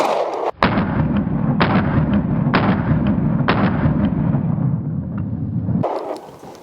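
Four sharp, evenly spaced shots from a Springfield Hellcat Pro 9mm pistol loaded with 124-grain rounds, each loud crack trailing into an outdoor echo, roughly a second apart, with no talking.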